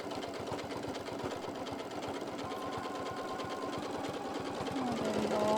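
A sewing machine stitches slowly around a curve with a steady, even mechanical whir and rapid rhythmic needle pulses, rising slightly in loudness toward the end.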